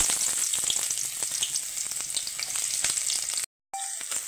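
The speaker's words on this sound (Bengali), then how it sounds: "আমি প্রথমে পেঁয়াজগুলো দিয়ে দিচ্ছি।" Onions dropped into a hot wok and frying, giving a steady bright sizzle with crackles that continues for several seconds, then briefly cuts out before resuming.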